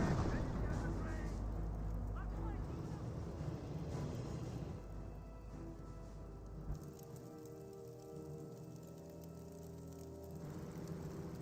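Booming explosions from a bomber run in the World War II strategy game Company of Heroes, low rumbling blasts and crackling debris rolling under continuous battle noise and a commentator's voice.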